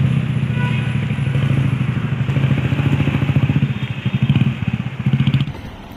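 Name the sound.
motorbike being ridden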